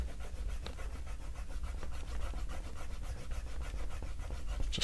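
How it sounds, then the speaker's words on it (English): A pencil sketch for an acrylic portrait is erased with quick, faint, rhythmic rubbing strokes, heard close up and alone. "Just erase that."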